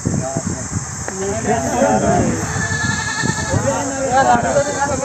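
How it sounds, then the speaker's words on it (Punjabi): Goats bleat repeatedly at a village goat market in Bhullar, Punjab, close by and loud, with people talking and bargaining over them throughout. "ਇੱਥੇ ਹੁੰਦੀ ਜੀ ਬੱਕਰੀ"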